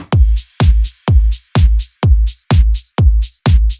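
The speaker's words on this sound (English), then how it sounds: "The drums sound like this." A melodic house drum pattern built in Cubase, with a punchy layered kick hitting steadily about twice a second, its low thump topped by bright, crisp hats and percussion, loud and alone with no voices.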